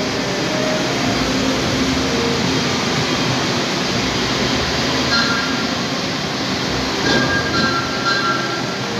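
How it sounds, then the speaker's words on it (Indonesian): An executive-class service train, a special locomotive-and-carriage test run, pulls to a stop at Wates station with a steady, loud rumble of wheels and rolling stock, faint squeals and hissing air over continuous train noise. "Inilah suasana berhentinya kereta dinas."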